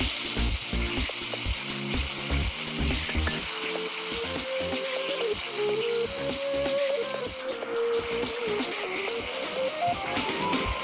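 Meat sizzling as it is added to a hot pan with onions and wine while cooking sauce for a giant lasagna. A steady, close frying hiss runs throughout beneath melodic background music.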